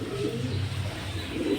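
A male Johnson line racing pigeon in a loft gives soft, low throaty coos, close and steady over a short stretch.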